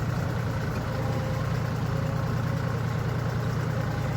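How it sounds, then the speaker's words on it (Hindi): An old farm tractor's engine runs steadily while turning in a field, a loud, continuous low diesel drone with no talk over it. "ये मोड़ा ट्रैक्टर"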